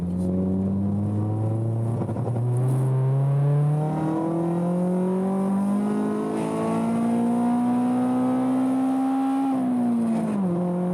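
A K-swapped Honda's engine revs steadily higher as the car accelerates hard, the pitch climbing for several seconds before a brief drop at a gear change, loud and close.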